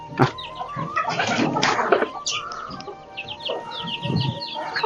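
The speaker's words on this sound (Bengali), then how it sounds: "এখানে আমার দেশি মুরগিগুলো খোলামেলাভাবে থাকে দেখতে পাচ্ছেন" Free-range native hens cluck and murmur close by in a yard, with scattered short calls and rustling and an occasional sharper squawk.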